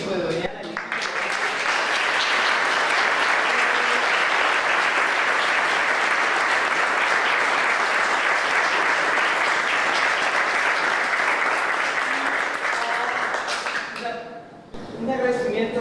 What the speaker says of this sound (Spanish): Entonces, un aplauso para el equipo de Doñana.